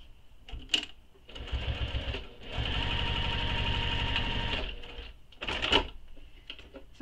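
A sewing machine stitches the curved corner of a crossbody bag, first in slow single stitches, then a steady close-up run of whirring, and ending in a few short bursts.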